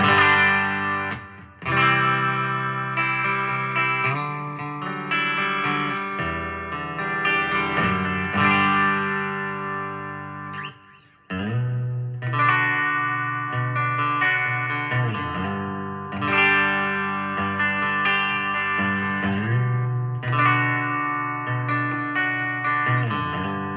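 Electric guitar played through a Fender Champion 20 amplifier on its twin reverb setting, a clean, reverberant tone, chords and notes ringing out loudly with brief pauses between phrases.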